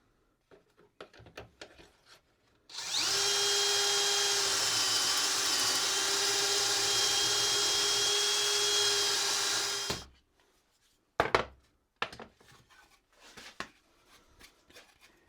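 A power drill bores a hole through clamped cedar board in one loud, steady whine lasting several seconds, with brief clatter and handling noises before and after.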